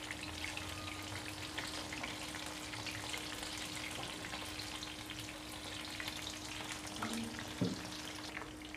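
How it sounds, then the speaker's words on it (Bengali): Chicken pieces deep-fry in oil over a medium flame, making a quiet, steady crackling sizzle throughout with a faint clink near the end. "চুলার আঁচটা মিডিয়ামে রেখে আমি সবগুলো চিকেন ডিপ ফ্রাই করে নিব"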